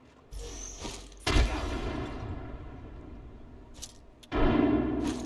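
Gunfire in the video game Apex Legends, two loud bursts of shots with booming impacts separated by a quieter stretch, heard close and without talk.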